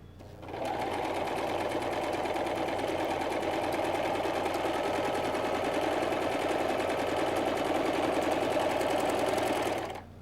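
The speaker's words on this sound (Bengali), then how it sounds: "এখন হাইয়ের যে অংশটা আছে সেই অংশটা সেলাই করে নিচ্ছি" A domestic sewing machine stitches a half-inch seam on a salwar, running at a steady fast clatter for about ten seconds without a pause, close and loud.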